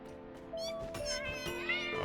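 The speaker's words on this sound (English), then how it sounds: "Oh, he's a spitting cat." A cat meows in a drawn-out, rising-and-falling cry, fairly faint, over steady background music during a game stream.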